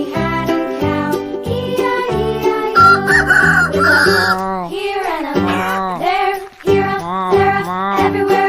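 A rooster crows repeatedly in loud, clear calls, interspersed with clucking fowl and faint jingling, with no voices present.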